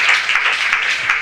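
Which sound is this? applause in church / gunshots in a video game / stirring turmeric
applause in church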